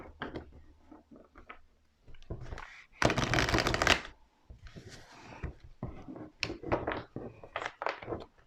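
Tarot cards being shuffled and laid down, with scattered soft taps and slides and one loud riffle lasting about a second, close and quiet between.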